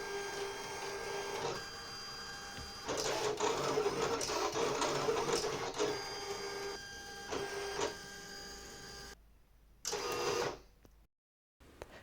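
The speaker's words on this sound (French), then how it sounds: "j'envoie et la machine me découpe" A Silhouette electronic cutting machine slices scrapbooking paper with a whirring motor and rapid back-and-forth carriage movements, loud and close, starting and stopping in bursts before falling quiet at the end.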